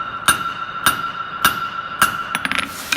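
A hammer strikes hot steel on an anvil horn while forging a hockey stick bend, giving five bright ringing clangs at an even beat, then a quick flurry of lighter taps at the end, close and clear with no talk.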